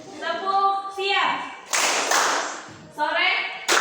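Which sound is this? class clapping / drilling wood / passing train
class clapping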